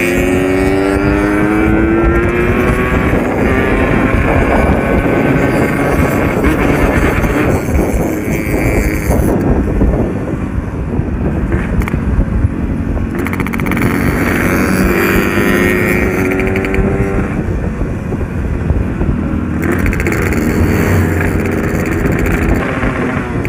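A Yamaha RX King two-stroke motorcycle revs hard again and again in rising, buzzing pulls. Brief drops to idle come between the revs, and the engine stays loud and close throughout, with wind noise over it.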